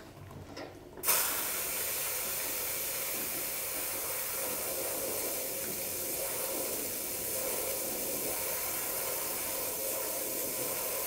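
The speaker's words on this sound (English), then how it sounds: "I'll take one more squirt for the road." Scent squirted into candle wax during candle making gives a steady, fairly loud hissing spray that starts abruptly after a second of quieter sound and runs unbroken to the end.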